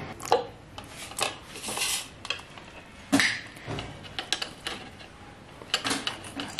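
A knife cuts through chicken leg pieces on a board. Close, irregular knocks and scrapes come in short bursts with quiet gaps between them.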